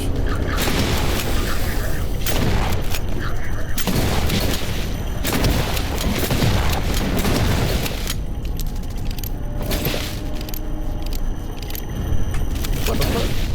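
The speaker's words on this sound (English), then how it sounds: "Those mortars." Mortar explosions in the horror video game In Sound Mind, a dense, continuous barrage of loud booms and rumbling blasts filling the whole stretch with no pauses.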